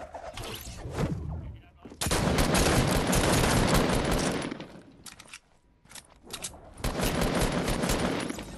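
Gunfire in Fortnite comes in dense, loud rapid bursts with short pauses between volleys. A brief quieter gap separates two long stretches of continuous shooting.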